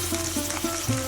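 Spices and onion paste sizzle steadily in hot oil, a continuous close frying hiss with soft stirring scrapes, without voices.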